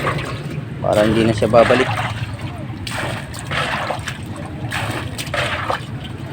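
Water is poured over freshly caught fish meant for grilling, in several splashing bursts with short pauses between. People talk over and between the pours.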